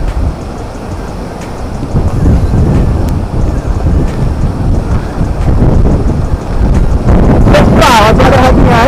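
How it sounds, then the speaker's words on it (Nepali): Strong wind gusts near Jalbire waterfall in Chitwan, Nepal, roaring and buffeting loudly against the microphone throughout, with rushing water blended underneath and a harsher burst near the end. "कस्तो हावा चलिरहेको छ यहाँ है"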